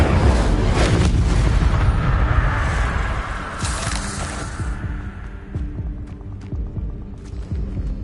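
An Incendio fire spell goes off in Hogwarts Legacy: a loud, broad roaring whoosh of flame that holds strong for several seconds, then thins into a fainter crackling tail with light clicks.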